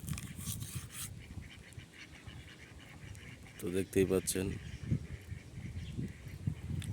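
Ducks on a pond give a short burst of nasal quacking partway through, heard over outdoor background noise while someone talks.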